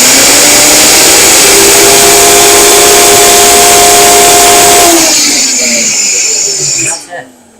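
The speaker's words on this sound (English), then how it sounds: "we're going to turn the blender on for just a moment" A countertop blender grinds dried and roasted vegetables into powder, a loud steady whirring motor roar for about five seconds that winds down and cuts off near the end.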